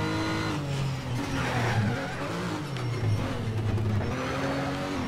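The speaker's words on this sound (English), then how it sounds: "That turbo, love turbos." Turbocharged race car in the racing game Need for Speed Shift roars continuously, engine note rising and falling through gear changes with turbo whine, loud and up close with no talk.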